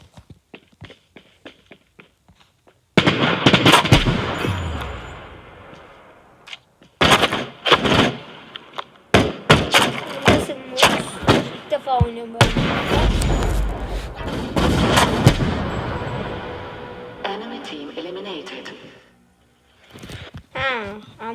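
Gunfire from weapons in the mobile shooter game Battle Prime, with repeated loud bursts and single shots in quick succession, some echoing booms, under and between stretches of talk.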